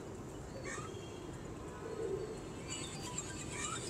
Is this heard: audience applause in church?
no